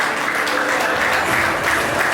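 Audience at a film trailer launch applauding the director, loud dense clapping from a large crowd filling the whole short span.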